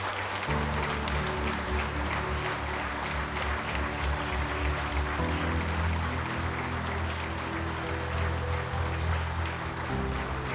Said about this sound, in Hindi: नरेंद्र जी की एक जोरदार तालियों से स्वागत करें